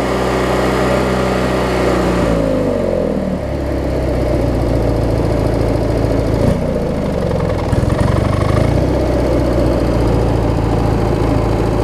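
A Craftsman mower's Briggs & Stratton opposed-twin engine runs loud and steady, its pitch climbing over a few seconds as the throttle is opened, then holding at a higher, even drone.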